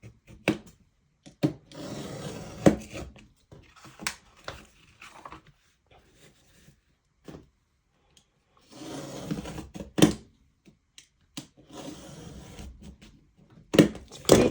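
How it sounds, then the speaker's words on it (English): A utility knife trims thick cardboard on a cutting mat, giving repeated rasping scraping strokes in separate bursts with quiet gaps and occasional sharp taps, close and moderately loud. "I'm going to trim those down using a utility knife and a cutting mat that I have here to trim them down"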